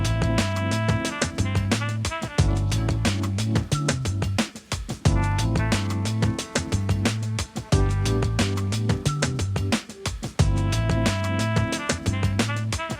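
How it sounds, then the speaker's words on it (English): A trip hop track built in Ableton plays alone with a looping groove of punchy drums, deep bass and layered melodic parts, loud and steady with brief drops in the beat. "I've got a little track going in Ableton."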